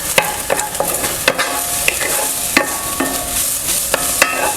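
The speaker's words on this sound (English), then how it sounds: "we'll just give that a quick stir" A spoon scrapes and clacks against the inside of a pot of chili, with sharp knocks repeating every half second or so over a steady background sizzle, close and fairly loud, no talking.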